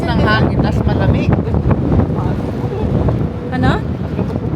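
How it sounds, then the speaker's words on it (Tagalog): A strong, cold outdoor wind buffets the microphone in loud, rumbling gusts while people talk over it throughout. "Lakas ng hangin, tas malamig."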